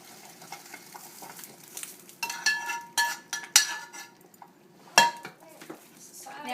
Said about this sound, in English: We're going to stir it just to make sure we don't want the beans to stick to the bottom.